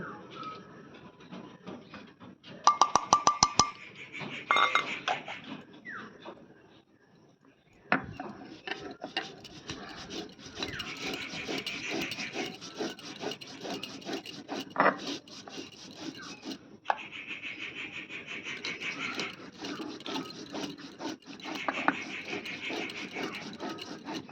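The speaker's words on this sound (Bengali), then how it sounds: "আর এদিকে আমি পোস্তটা বেটে নিলাম।" Poppy seeds ground into a paste for a Bengali dish, rhythmic rubbing and scraping strokes of stone or grinder, a few sharp clatters early, then a brief pause and long continuous grinding passes.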